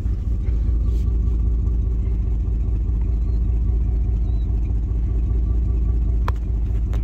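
The engine of a 1999 Dodge Durango SLT, revived after sitting abandoned for 14 years, idles in neutral with a loud, steady low rumble and faint clatter, close up, with one sharp tap near the end.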